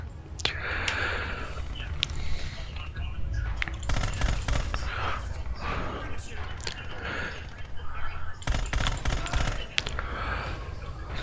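Automatic machine gun fire in the Rising Storm 2 video game, sustained suppressing bursts with sharper louder bursts near the middle and end, dense battle din throughout.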